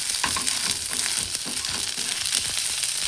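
Okra frying in ground spice paste in a pan: a loud, close, continuous sizzle with rhythmic scraping and stirring strokes, no voices.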